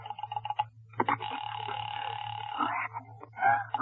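An old-time radio horror drama telephone ringing, a long electric ring burst after a few short tones, close and clear over a low steady hum.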